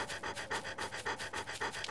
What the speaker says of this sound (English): It's a doggy here.